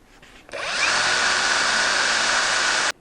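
A Dnipro-M impact driver spins up with a sharp start, holds a steady, loud, high whirring run for a little over two seconds, then cuts off abruptly.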